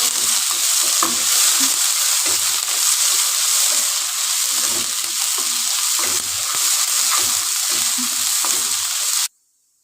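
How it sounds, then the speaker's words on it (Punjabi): Chopped onions for a potato-stuffed green chilli dish fry and get stirred in a pan, a loud continuous sizzle with scraping stir sounds, cutting off abruptly near the end. "ਆਪਾਂ ਨੇ ਉਹਨੇ ਕ ਪਿਆਜ਼ ਭੁੰਨ ਲਏ"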